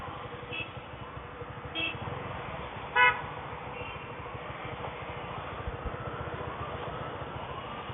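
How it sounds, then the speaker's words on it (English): A Bajaj V15 150cc motorcycle idles with a low, rapid, pulsing exhaust thrum held steady throughout, while a few short horn toots cut in over it, the loudest near the middle. "Okay, let me give you the exhaust note."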